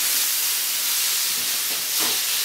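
Steaks laid into a hot pan sizzle with a steady, loud broadband hiss throughout, swelling slightly near the end, with no talk.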